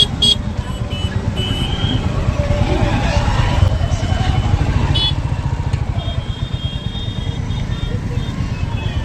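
A Royal Enfield Bullet 350 motorcycle runs with a steady, rapid low thump of its single-cylinder engine, close and continuous, as people talk nearby at a busy temple fair.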